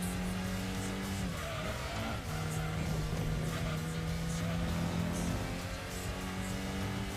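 A Datsun 240Z races in the Gran Turismo 2 video game, its engine droning in a steady buzzing tone with shifting pitch, brief tire-squeal skids, and a busy mix of game sound running underneath.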